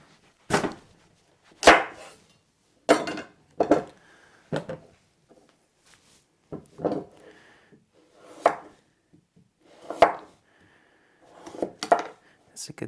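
Butternut squash being chopped with a knife on a cutting board, about a dozen sharp separate chops spaced unevenly, close and clear with short pauses between them.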